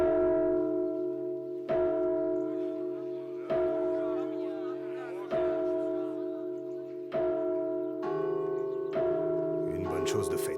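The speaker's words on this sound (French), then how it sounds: "Sonnez les cloches." Church bells ring out loudly in a steady, repeating sequence of strong struck tones with long ringing sustain, carrying on through the whole stretch with no voices.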